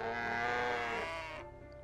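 A sheep bleats in the farming video game My Time at Portia, one drawn-out, wavering call that fills most of the moment before cutting off into quiet.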